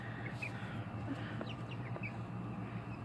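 Young Australorp and Brahma chicks chirping in a coop, with a few brief, high, scattered peeps over a steady low background hum.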